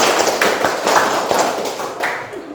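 Sharp hand claps ring out in a quick rhythmic pattern, several claps in short groups, loud and close.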